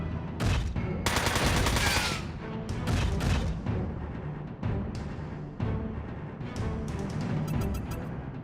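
Shotgun fire in the mech game Front Mission 4 blends into dense, continuous battle noise, with heavy booming blasts and rapid repeated shots, loud and close throughout.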